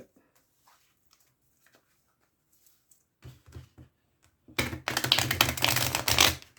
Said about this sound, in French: je vais mélanger les jeux